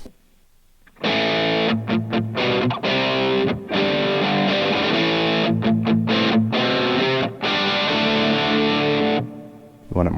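Heavily distorted electric guitar played through a full mid-scooped impulse response from a Tone Jonkies AI IR pack, strumming loud sustained chords broken by several short choked stops, with no other sounds present.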